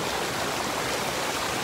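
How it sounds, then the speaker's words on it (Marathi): A rain-fed waterfall at Lonavala pours steadily from high above in light drizzle, a dense, even rushing roar filling the space with no break. "इकडे समोरून बघा पूर्ण वरून धबधबा पडतोय पावसाचा आणि खूप छोटा रिमझिम पाऊस आहे"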